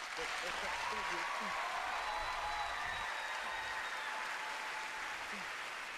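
An audience breaks into sustained applause, a dense, even wash of clapping at moderate distance with faint voices and cheers mixed in.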